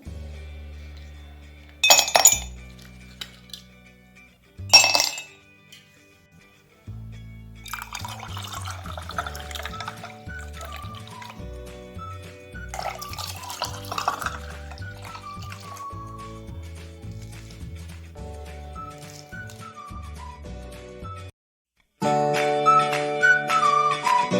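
Chilled spiced buttermilk (mattha) poured into glasses, with clear glass clinks and a liquid trickle over a steady musical backing, and a brief pause before it resumes.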